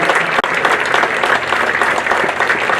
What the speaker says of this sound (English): Let's give a function record, a round of applause for our 20 players